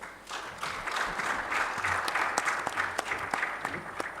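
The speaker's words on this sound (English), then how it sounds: "So may we all please give them a round of applause" A conference audience at a microfinance technology summit in a Kigali convention center applauds the panelists, with steady hand clapping throughout and some sharper claps standing out near the end.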